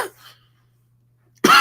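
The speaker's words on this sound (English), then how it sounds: "Why am I coughing?" A person gives a single short cough up close, followed by about a second of silence and then a burst of louder sound.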